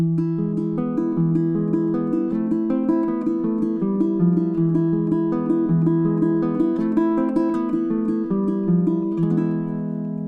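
A baritone ukulele plays the second melody of Malagueña at full speed, a steady run of quick plucked notes with ringing tones, close and clear with no talking.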